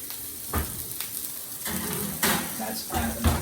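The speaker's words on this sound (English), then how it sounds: "we want to make sure that our meatballs are getting a nice color. And we want to roll those around in the pan" Meatballs sizzle in a pan at a moderate, even level, with a few louder bursts as they are rolled around and bump against the pan; no one speaks.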